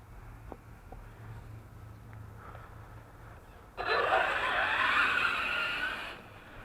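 An Arrma Kraton 6s RC car starts driving: after a quiet stretch, a sudden loud burst of motor whine and tire noise runs for a couple of seconds before easing off.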